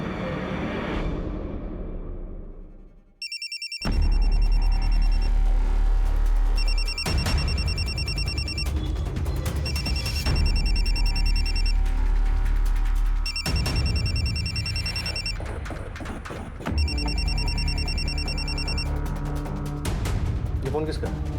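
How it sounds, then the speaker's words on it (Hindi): A mobile phone rings repeatedly in bursts of a steady electronic ringtone inside a home during a police questioning, loud and close, with low rumbling room noise underneath. "ये फोन किसका है?"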